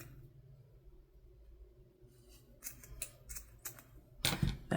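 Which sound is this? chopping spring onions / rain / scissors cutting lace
scissors cutting lace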